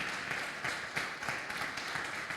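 A church congregation claps together during a service, a fairly faint, continuous wash of applause with a loose rhythmic pulse throughout.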